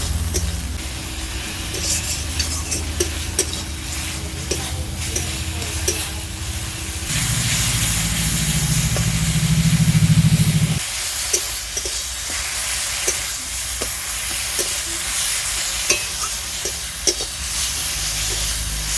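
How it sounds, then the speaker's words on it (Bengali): A spice masala of ground spices with a splash of water being fried in a pan, a continuous bright sizzle with scattered stirring taps, close and steady, swelling briefly partway through. "মশলাটাকে বেশ ভালো করে এবার কষতে থাকবো যতক্ষণ না পর্যন্ত মশলা থেকে তেল ছেড়ে দিচ্ছে"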